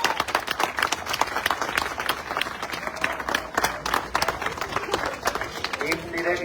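Steady applause and clapping from a large crowd at an outdoor political rally with the Prime Minister in Nor Nork's 8th district, Yerevan, dense and sustained throughout, with voices and cheers mixed in.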